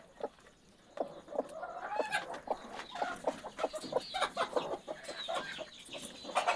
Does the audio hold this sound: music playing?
no